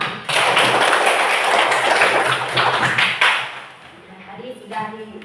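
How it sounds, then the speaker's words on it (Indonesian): Classroom applause from a class of students clapping together, a dense burst of loud claps lasting about three seconds before it fades into scattered noise and voices. "sekarang kita tepuk tangan untuk kita semua"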